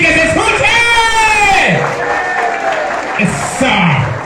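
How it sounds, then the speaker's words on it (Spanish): A crowd at a 60th birthday celebration whoops, shouts and cheers loudly and close by, with voices rising and falling in bursts over a dense background of clapping and chatter. "denle un fuerte aplauso y que se escuche"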